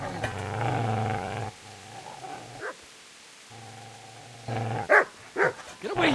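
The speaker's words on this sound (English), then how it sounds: "Get away, you mutt!" A dog in the Kingdom Come: Deliverance video game, giving deep, sustained growls in two long stretches, then a few sharp, loud barks near the end.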